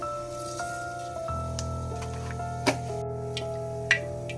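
Mustard seeds crackle in hot oil in a pan while nettle thoran is being made, giving a few sparse, sharp pops over a steady low hum.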